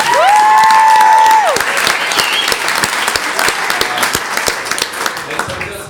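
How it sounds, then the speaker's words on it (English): Loud applause from a crowd, steady clapping that slowly thins out, with a brief electronic tone near the start. "Please give Caitlin a round of applause."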